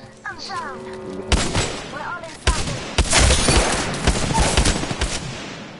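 Apex Legends gunfire: loud rapid shots and bursts cracking repeatedly through the middle of the clip amid a chaotic firefight, with other game sounds underneath.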